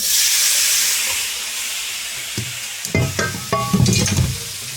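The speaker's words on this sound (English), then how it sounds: "now I'm going to add the rest of my pasta in there" Cooked pasta for pasta alla gricia goes into a hot pan, a steady sizzle and hiss followed by a few scraping, clattering stirs and tosses near the end, close and fairly loud.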